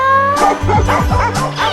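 A dog barks and yips in a quick cluster of short, loud, close barks with a whimpering edge.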